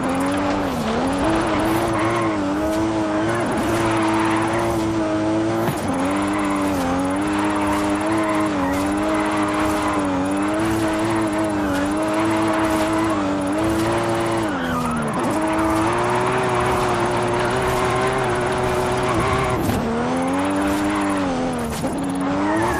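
A high-powered car with roughly 700 extra bhp drifting in Forza Horizon 5, engine droning loudly and steadily with shifting pitch while tyres squeal continuously, no voices.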